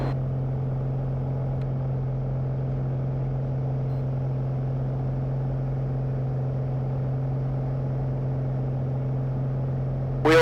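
Small general-aviation aircraft engine during takeoff, a steady loud droning hum from the cabin that holds evenly throughout with no voices.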